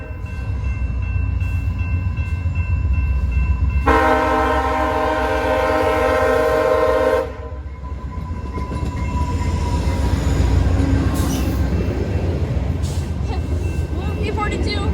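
Passenger trains roll past at Brockville, with a loud horn blast of stacked tones sounding over the steady rumble and wheel noise, then the roar continuing after the horn cuts off; voices talk nearby.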